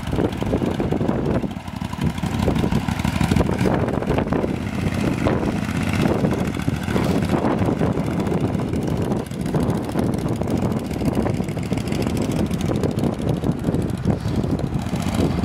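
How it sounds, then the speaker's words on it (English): A small V-twin Vanguard engine fitted to a 1956 Cushman Eagle scooter runs steadily and close, a loud continuous throbbing rumble with wind buffeting the microphone. "That little V-twin engine sounds really good."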